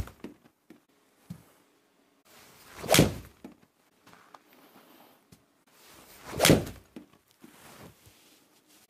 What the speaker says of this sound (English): So let's hit that Pro V1x on a 7-iron.